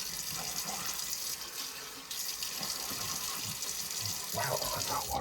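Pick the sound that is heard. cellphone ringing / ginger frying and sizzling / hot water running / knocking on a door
hot water running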